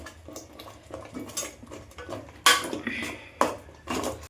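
Washed potatoes go into a pan of masala with a few sharp clanks and knocks of utensil on metal between quieter rustling and stirring.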